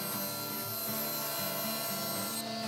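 A saw cuts through half-inch Baltic birch plywood for bread box panels, producing a steady, fairly quiet grinding drone with a faint repeating pulse and no voices.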